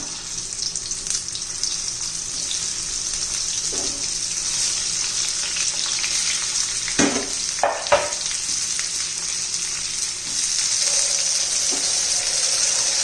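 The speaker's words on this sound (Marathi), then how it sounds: "थोडा तेलात आपण परतून घेऊया" Ridge gourd pieces fry in hot oil with cumin and mustard seeds for a stuffed ridge gourd dish, giving a steady broadband sizzle with a few brief stirring knocks and scrapes near the middle.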